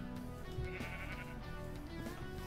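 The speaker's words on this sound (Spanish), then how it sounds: "Estoy buscando las ovejas para pintarlas de color rojo." Sheep in the Minecraft video game bleating, several quiet wavering bleats in succession over a soft background, with no voices.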